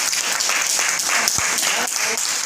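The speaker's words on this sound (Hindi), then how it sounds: "बढ़िया भाई, ताली बजाओ।" A group at a drug rehabilitation centre in Kanpur claps together in a steady, fairly close burst of applause that lasts the whole moment without letting up.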